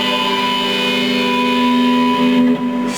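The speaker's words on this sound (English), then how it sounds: "but when you palm mute it, it sounds like this." Palm-muted distorted electric guitar chord in metal style, a tight, dampened chug that holds steady for a few seconds before cutting off abruptly.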